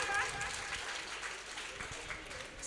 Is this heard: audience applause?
yes